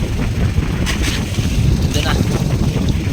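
Waves slap against a fishing boat at sea off the Philippines, a steady rush of water and heavy wind buffeting the microphone throughout, loud and close with no clear pauses.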